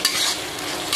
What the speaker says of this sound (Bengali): শুকনো লঙ্কা গুঁড়োটা দিয়ে কষিয়ে নিলাম